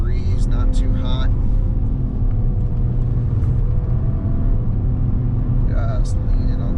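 A 2021 Mercedes E53 AMG Cabriolet drives on winding Los Angeles hill roads, its engine roaring loud and steady at high revs near the limiter, with brief high-pitched chirps over the constant rumble.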